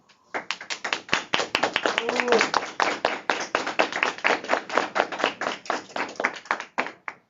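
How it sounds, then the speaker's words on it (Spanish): Applause in a hall at the close of a public accountability hearing, a small group clapping with distinct, crisp individual claps that build quickly, run steadily for several seconds and then thin out. "le damos fuerte aplauso a los que estamos en sala"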